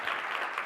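Brief burst of audience applause in a conference session hall, steady and fairly dense for under a second with no talk over it.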